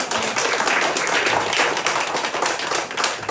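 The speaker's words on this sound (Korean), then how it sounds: "수고 많으셨다고 한번 박수 한번 해주세요" A church congregation claps together for two members at a Sunday morning Parents' Day service, dense steady applause filling the room without pause.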